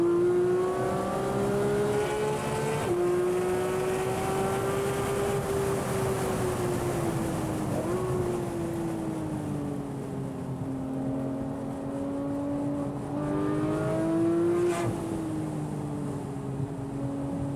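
A Porsche 911 991.2 GT3 with a six-speed manual gearbox, stock, accelerates hard on a race track, its engine note rising and dipping through gear changes with a loud, continuous wail heard from inside the car.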